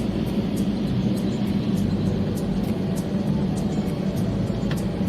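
An Air India Airbus A321 rolls toward the runway at Kolkata, heard from inside the cabin as a steady, even low rumble with faint ticking clicks on top and no talking.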